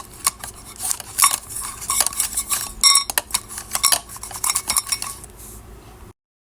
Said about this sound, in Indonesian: Lanjut ini si jahe, kunyit, dan lengkuas di slice dulu ya teman-teman